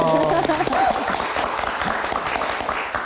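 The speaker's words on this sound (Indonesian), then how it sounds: "Tepuk tangan dulu dong." Applause breaks out loudly and continues steadily, with voices audible over the clapping at the start.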